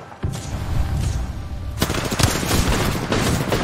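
Sustained automatic gunfire in the video game Apex Legends during a fight against hackers, with fast rattling bursts that start abruptly and continue, then grow louder and denser, with no talk over them.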